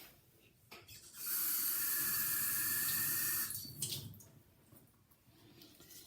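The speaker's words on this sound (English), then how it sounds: "Let's get this stone wet." Water splashes onto a Japanese Aoto sharpening stone in a steady, fairly loud pour lasting about two seconds, with quieter handling noise before and after and no talking.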